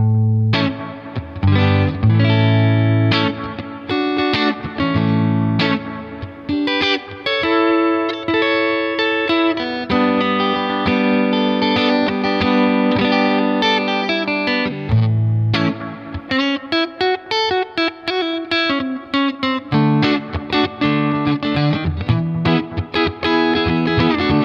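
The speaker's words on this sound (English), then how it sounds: "This is the Mojo Strat Size gold foil neck pickup." An electric guitar with a Mojo Strat-size gold foil neck pickup plays a clean tone, loud picked notes and chords ringing in phrases with brief pauses, alone with no talk.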